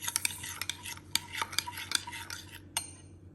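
Brown sugar stirred into okonomiyaki sauce in a small bowl, a utensil scraping and clinking against the sides in quick, irregular strokes, close and fairly quiet, with a sharper tap near the end and no talking.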